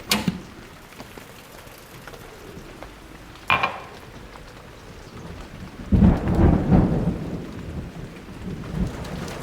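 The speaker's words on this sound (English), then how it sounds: "A thunderstorm is in progress outside." A thunderstorm rages outside an apartment at night, with a sharp thunder crack at the start, another mid-clip, and a long rolling rumble later over a steady hiss of rain pattering against surfaces.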